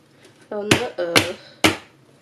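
Three sharp metallic knocks of a cake tin filled with sponge cake batter being tapped on a surface to settle it, spaced about half a second apart, close and crisp, with a short voiced sound between the first two.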